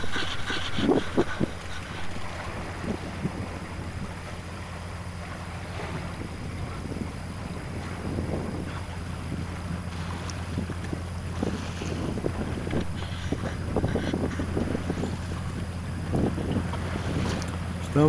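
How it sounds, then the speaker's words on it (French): A heavily loaded bulk carrier cargo ship passes at sea off Brittany, heard as a low steady engine rumble under constant wind noise and lapping water, with no talk. "C'est un vraquier, je sais pas ce qu'il traîne là, mais en tout cas il est bien chargé le garçon."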